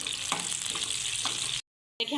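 Chopped onion sizzles and fries steadily in a pan while browning, with a continuous loud crackle, a few stirring knocks, a brief dropout, then the sizzle returns.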